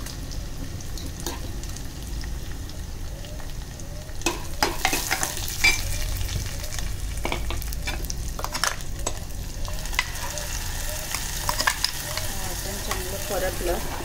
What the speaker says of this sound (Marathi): वाटण 2 मिनटं छान परतून घ्यायचं